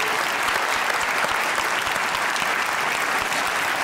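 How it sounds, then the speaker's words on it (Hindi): An audience applauds at a live comedy show, dense steady clapping that fills the whole clip at an even level with no voices standing out. "ताली होनी चाहिए सबके लिए।"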